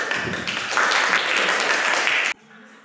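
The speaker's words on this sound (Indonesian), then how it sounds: "Tepuk tangan." A classroom of students claps together in a brief, fairly loud burst that stops abruptly after about two seconds, leaving a quiet room tone.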